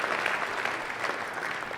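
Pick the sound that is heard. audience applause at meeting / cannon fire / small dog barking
audience applause at meeting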